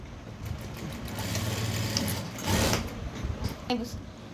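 A sewing machine stitches a blouse in a few short, quiet bursts of mechanical whirring, with a person talking over it.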